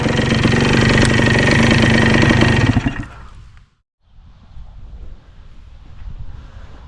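A 1983 Yamaha IT 175 motorcycle engine runs loud and close, a steady buzzing drone for about three seconds that then cuts off abruptly, leaving only faint background noise and wind.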